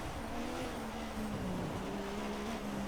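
Formula One car engine in the racing game F1 2016 at Spa, roaring through a safety car restart as the limiter comes off; a steady, loud rising whine with shifting pitch and faint tyre noise, no talking.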